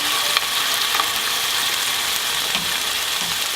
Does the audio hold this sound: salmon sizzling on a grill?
yes